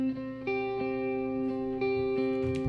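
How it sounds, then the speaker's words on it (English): Two sustained electric guitar notes drenched in heavy reverb, one struck near the start and a second about a second later, each ringing out with a long smooth tail and blending into a steady wash. "That is just two notes on the guitar with loads of reverb on it."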